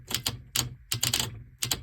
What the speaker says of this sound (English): So you'll hear the click.